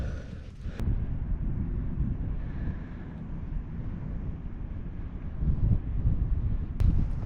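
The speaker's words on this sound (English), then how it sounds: "It's a bit windy up here, so I hope you can still hear me." Strong wind blowing at the top of a mine incline at Yew Crag Mines in the Lake District, a continuous loud rushing roar buffeting the microphone with gusts that swell toward the end.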